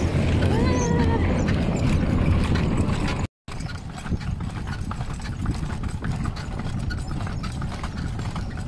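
Horse hooves clip-clop steadily as the animal pulls a kalesa carriage along a street by a large church, mixed with a nearby idling engine and steady road noise.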